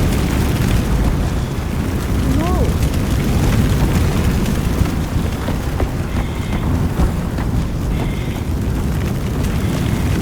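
A burning building's roof caves in during Firefighting Simulator, heard as a continuous loud, dense rumbling roar, with deep booming and crackling fire noise running through the whole stretch.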